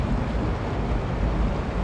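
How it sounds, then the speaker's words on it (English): Rising water in the Little Nightmares level The Depths, a steady, loud rushing wash of broadband water noise filling the whole short stretch with no break. "Water is rising."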